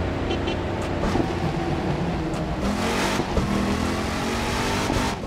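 A Dodge Hellcat's engine in the racing game The Crew 2 pulls hard on a freeway, a steady loud roar and rev that holds for several seconds with slight swells.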